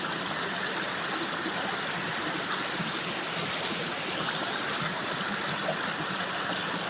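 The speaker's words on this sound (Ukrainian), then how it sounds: "А там у далині біжить водоспад." A Carpathian mountain waterfall pours as a steady, even hiss of rushing water, fairly faint and unbroken, with no talk over it.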